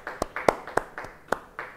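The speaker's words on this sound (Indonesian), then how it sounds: "Beri tepuk tangan bagi dia." Congregation clapping in church during a Bible study: a sparse, uneven run of about eight sharp hand claps over a couple of seconds, fairly close, with no talking.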